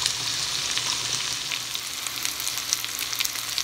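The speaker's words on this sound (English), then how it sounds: "And just saute them together." Food sautéing in a hot pan, seasoned with salt and pepper, giving a constant close crackling sizzle with light stirring and no talk.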